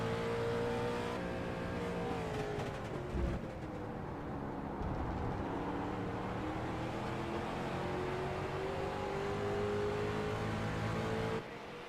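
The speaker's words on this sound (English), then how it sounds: "listen to those tires absolutely working through the infield." Street stock race cars on the Daytona road course, engines droning and shifting pitch as they work through the infield, with a brief thump midway, steady and fairly loud throughout.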